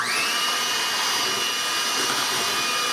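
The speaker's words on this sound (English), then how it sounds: "this mixer doesn't seem to have a low speed on it" An electric hand mixer beating brownie batter, a steady high whirring drone running continuously at one fast speed with no pauses.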